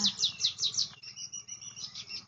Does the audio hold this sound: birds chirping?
yes